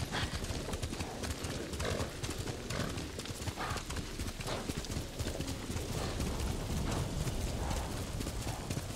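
Horse hooves galloping in the Ghost of Tsushima video game, a fast continuous drumming of hoofbeats mixed with rain and wind noise, steady and fairly loud throughout.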